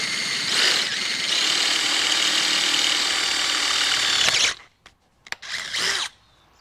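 A power drill bores through a sheep hurdle in a steady, high whine for several seconds, then stops, followed by a few short clicks and one brief final burst of drilling.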